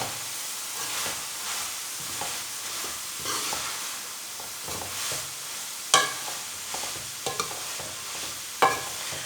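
Shredded cabbage and peas frying in a pan sizzle steadily while being stirred, with spatula scrapes and a few sharp clacks against the pan.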